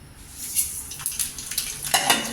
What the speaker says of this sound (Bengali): তো তেলটা কিন্তু গরম হয়ে গেছে, এখন কিন্তু আমি সরিষাগুলো দিয়ে দেবো